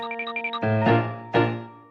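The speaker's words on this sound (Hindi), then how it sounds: "घंटी बजाओ" A bell is rung twice, each clear metallic strike ringing out with a long sustain, preceded by a few light, quick chiming tones.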